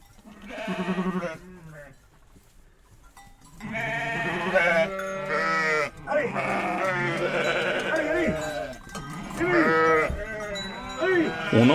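Sheep bleat repeatedly on the Aubrac plateau, several wavering calls overlapping with the faint tinkle of their bells, the flock sounding fairly near after a quieter opening bleat.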